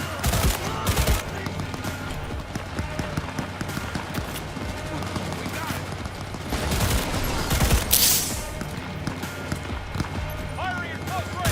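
Rapid gunfire from a close-range fight in Cyberpunk 2077 crackles in bursts under game voices, with one louder sharp blast near the end.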